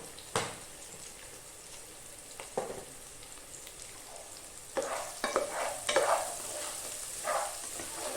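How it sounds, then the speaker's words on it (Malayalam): Sliced onions with salt sautéing in a pan for chicken roast, a soft, steady sizzle with occasional scraping stirs and clinks, quiet and close. "സവോള നന്നായിട്ട് വഴന്നു വരണം."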